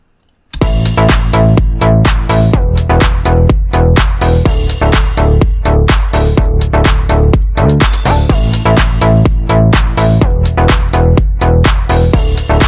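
The full mix of the track with synth, gliding bass and drums together kicks in after a brief silent moment, dense and loud, with a driving steady beat and a short break near the middle.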